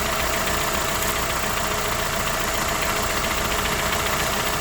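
A 2001 Kawasaki ZX motorcycle engine idles steadily during an oil change, a constant close mechanical thrum with a rapid, even pulse and vibration, loud and unbroken for the whole stretch with no talking.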